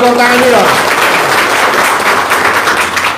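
A crowd at an Indonesian gathering claps together in a dense, steady wash of applause that fills the room, loud and close, with a voice briefly heard at the very start.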